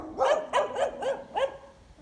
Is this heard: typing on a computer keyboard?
no